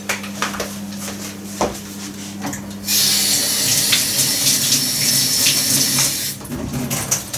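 Tap water runs steadily into a sink for a few seconds, a close broad rush between clinks and handling noises of washing up.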